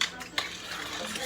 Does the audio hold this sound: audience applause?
no